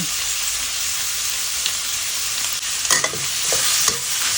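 Dried shrimp, carrot and garlic stir-fry in a hot pan, giving a continuous close sizzle with scraping spatula strokes that pick up toward the end and no talking.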